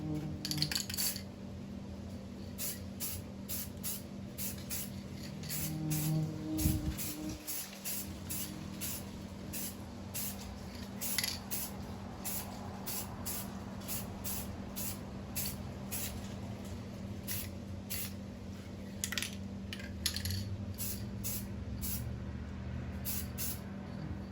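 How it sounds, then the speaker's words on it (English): Spray paint misted onto a guitar body in a series of short, close hissing bursts, repeated steadily over a low background hum, with a brief clunk partway through. "So I'm going to just give a mist coat to both sides, and we'll keep going."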